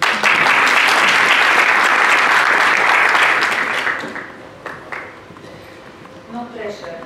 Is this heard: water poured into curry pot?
no